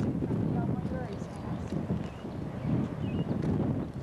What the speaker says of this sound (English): It's kind of windy on top here.